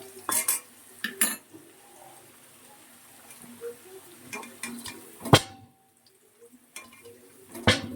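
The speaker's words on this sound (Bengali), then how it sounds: "এদিকে আলুটা ভাজা হয়ে গেছে, এবার তুলে নেবো।" Fried potatoes are scooped out of a pan in a home kitchen, with sharp metal clinks and scrapes of utensil against cookware coming in bursts, separated by quieter stretches and a faint sizzle.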